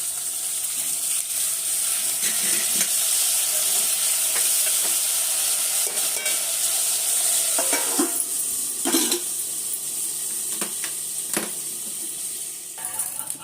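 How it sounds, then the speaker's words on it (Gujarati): Brinjal sizzles steadily in hot oil, a continuous hiss with occasional clinks and stirring scrapes of a spoon against the pan. "તેલ નાખી અને રીંગણ વઘારી દીધા છે"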